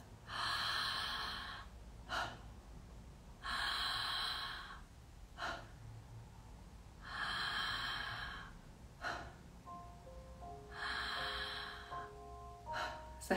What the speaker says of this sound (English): Just letting go of that exhale.